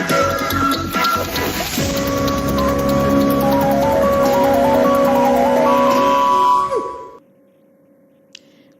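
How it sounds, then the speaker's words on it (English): Heavy rain pours down in Douala, Cameroon, a loud steady wash over the first seven seconds with music playing beneath it, then cutting off to near silence. "With heavy rains hitting the town of Douala, Cameroon these days"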